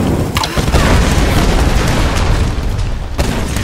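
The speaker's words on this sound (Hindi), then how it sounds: "एक धमाका मेरी तरफ से" A video game explosion from Tomb Raider 2013 booms loud and close, a deep rumbling blast that roars on without a break, with a second sharp burst near the end.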